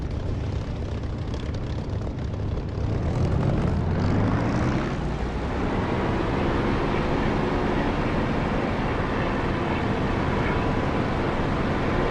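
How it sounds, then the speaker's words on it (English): Aircraft engine in the DCS flight simulator game roaring steadily during takeoff, a loud continuous drone that swells and shifts in pitch as the plane accelerates. "I'm set for takeoff, break off, and away we go."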